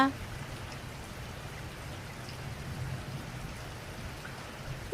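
Steady rain falling in the morning, a soft, even hiss of drops continuing without breaks and heard at moderate distance.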